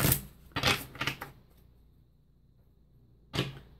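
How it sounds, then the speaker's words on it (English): Crisp riffling bursts of tarot cards being shuffled, three quick flurries close by, then a pause before one more short riffle. "I want to make sure they're nice and shuffled"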